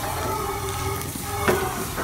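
A pot of bagoong shrimp paste bubbling on the stove, a steady close sizzling and simmering hiss with a small clink partway through, no voices.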